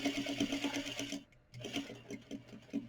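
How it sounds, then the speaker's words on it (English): Sewing machine stitching the top edge of a patch pocket, a fast steady close whirring rhythm that pauses briefly midway and then resumes, with no talking. "And I'm just stitching trying to catch the fold."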